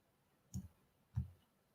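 Two soft, separate taps on a computer keyboard, quiet and close, about half a second apart against a near-silent background.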